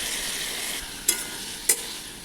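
Aloo jhinge, a potato and ridge gourd curry, being stirred in a pan with ground chilli and cumin paste, a soft sizzle with two sharp scrapes of the spoon against the pan.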